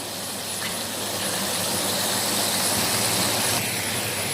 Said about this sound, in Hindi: चिकन हमारा फ्राई हो रहा है।